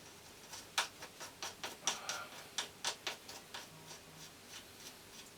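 A nut spun onto the front fork axle of a Kawasaki KMX 125 motorcycle and nipped up with a spanner: a close, quiet series of light metallic ticks and clicks in an uneven rhythm.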